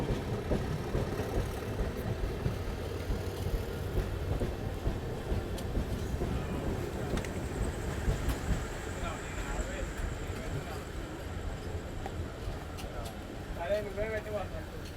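The Gautami Superfast Express is halted at a station, heard from inside a crowded coach: a low, steady rumble and idling hum continue while people talk throughout.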